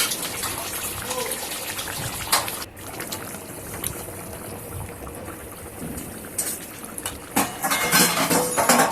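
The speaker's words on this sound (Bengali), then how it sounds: "আমি অন্য একটা পাত্রের মধ্যে ঝোলটাকে ঢেলে নেব।" Bhetki fish curry gravy with gathi kochu and potato pours from one pot into another, a steady wet gush running throughout with brief splashy bursts near the end.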